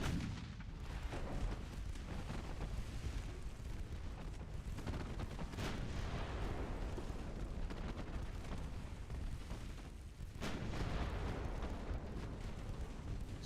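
A torpedo detonation in a naval warfare video game, heard as a heavy, rumbling boom that swells into a sustained, dense roar of low-end noise, loud and continuous, with a few sharper cracks mixed in.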